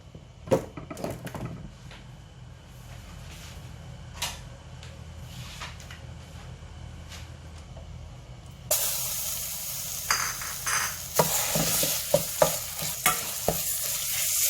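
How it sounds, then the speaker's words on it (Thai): Green curry paste stir-fried in coconut oil in a pot: scattered clinks and scraping of a utensil at first, then a sudden bright, continuous sizzle as the paste hits the hot oil, with stirring knocks over it. "ใส่น้ำมันผัดเครื่องแกงค่ะ"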